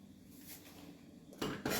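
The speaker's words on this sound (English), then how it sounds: "Let me just get a spoon." Spoon taken from a set of cutlery in a kitchen, soft rummaging followed by two brief, bright metallic clinks near the end.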